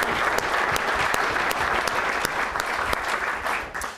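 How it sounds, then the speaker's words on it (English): Legislators and guests at an address to the Alaska Legislature applaud the Coast Guard, a dense, steady wash of many hands clapping with a few sharper claps standing out, fading slightly at the end. "How about a round of applause for these unsung heroes?"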